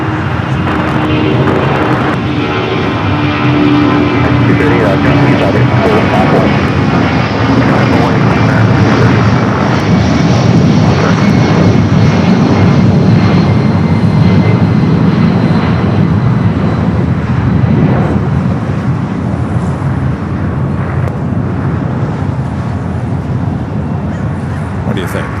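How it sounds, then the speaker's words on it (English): A jet airliner taking off from runway 25 right at Los Angeles International Airport, a loud continuous engine roar that holds steady throughout, with radio chatter and voices heard over it. "runway 25 right, clear for takeoff."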